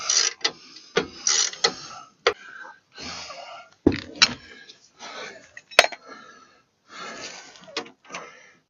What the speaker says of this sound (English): Put the 18 in my ratchet. I'm going to take this one going up and just snug it up